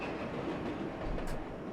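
Steady rolling rumble of a subway train running in World of Subways 4, with dense low-frequency drive noise and faint clickety-clack, a brief hiss near the end.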